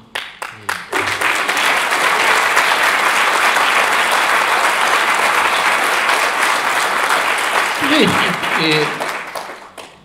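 Steady audience applause fills a hall at a Spanish-language political event for pro-life candidates, dense and sustained for most of the stretch before tapering off, with a voice beginning to speak near the end.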